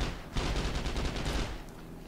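Rapid automatic fire from a Tommy gun in the Heroes & Generals video game, a dense, loud stream of shots running almost continuously for about a second and a half before trailing off.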